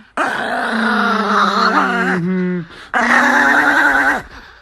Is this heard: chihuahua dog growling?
yes